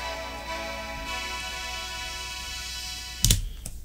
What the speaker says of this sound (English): Just two sort of partial chords, two note chords being played there.